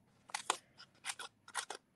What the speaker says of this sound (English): I just take my scissors and kind of snip around